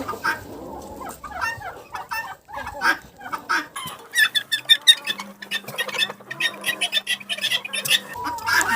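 Turkey hens clucking as they roam at home: repeated short clucks and chirps in uneven bursts, fairly close, with a low steady hum in the background.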